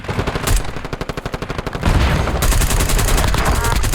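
Rapid automatic gunfire in Call of Duty Warzone, with dense bursts and fast rattling shots that run almost without a break. They are close and loud, with some voice chatter faintly underneath.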